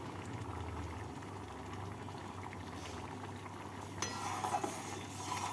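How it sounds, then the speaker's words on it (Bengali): Boiled masoor dal simmers in a pot to cook off its water, bubbling with a low, continuous burble at a soft level, with a few louder pops near the end and no voices. "এবার ডালের মধ্যে যে জলটা আছে সেই জলটাকে আরেকটু আমি শুকিয়ে নিচ্ছি"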